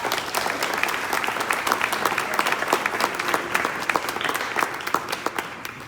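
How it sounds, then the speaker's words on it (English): An audience at a speech event applauds steadily with dense, continuous clapping to welcome a speaker, the sound moderately close and sustained for several seconds. "let's welcome him with a big round of applause"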